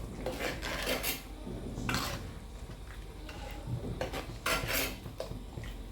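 A spoon stirs and scrapes mutton masala in a clay pot, with repeated rasping strokes and clinks coming in uneven bursts, close and fairly loud.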